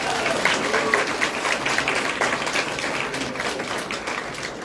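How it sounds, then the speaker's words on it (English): An audience at a tech awards ceremony claps for the nominees, a steady wash of many hands applauding at moderate volume for several seconds. "So big round of applause again to all of our nominees today."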